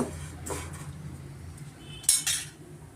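Ghee-fried vermicelli is moved onto a plate with a few light metallic clinks and scrapes of a utensil, close by and quiet, with two sharper knocks near the end.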